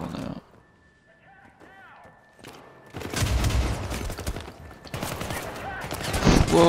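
Bursts of gunfire from the video game Syndicate, loud and dense in the second half after a quieter opening, with a voice talking over parts of it.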